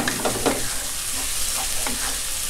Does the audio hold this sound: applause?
no